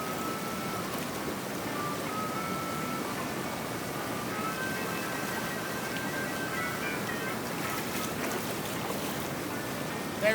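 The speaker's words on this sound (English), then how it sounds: "Let's pan it out and we'll find out" Crevice material from bedrock being panned for gold in water, a steady close swish and slosh of water and gravel running unbroken throughout.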